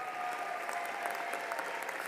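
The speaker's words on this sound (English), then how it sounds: "Let's give them a round of applause." An audience applauds graduates at a university commencement ceremony, a steady, dense wash of clapping from a large crowd heard at some distance.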